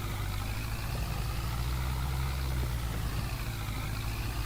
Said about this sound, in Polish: ten ciągnik też ledwo jedzie